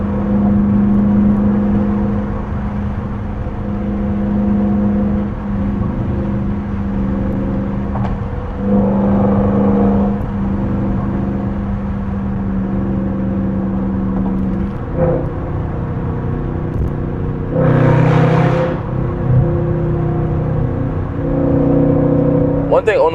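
A Dodge Charger R/T (RT) car engine heard from inside while driving, a deep droning rumble that swells with occasional revs and gear changes, close and continuous.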